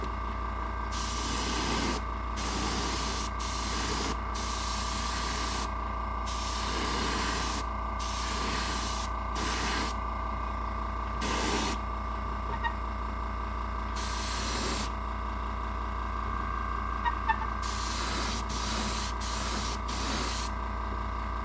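An airbrush sprays paint in repeated short bursts, each a breathy hiss starting and stopping over a constant low hum, close and fairly quiet.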